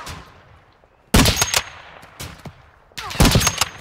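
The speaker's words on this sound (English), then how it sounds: "Taking effective fire." Video game gunfire comes in two loud, close bursts of rapid shots separated by a quieter gap with scattered single reports, and no voices over them.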